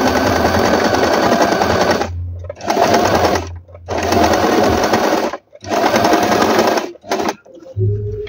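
A Stitchmaster table top sewing machine sews a zigzag stitch in loud, close, rapid bursts of whirring and clattering, stopping and starting four or five times with short silent gaps.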